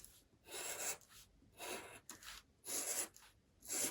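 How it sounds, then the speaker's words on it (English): A small pen cutter blade slices through paper for an art journal, giving four short dry scraping strokes separated by brief pauses, close and fairly quiet. "So you have the little blade here. This is a pen cutter."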